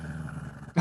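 A person imitates a dragon-like growl, a single loud, low, rough burst coming in abruptly at the very end after a stretch of quiet low murmur, during a tabletop Dungeons & Dragons session.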